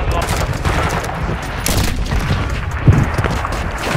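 Gunfire in a first-person shooter with a sniper and a bomb objective, dense bursts of shots filling the clip at high volume with one sharper boom near the end.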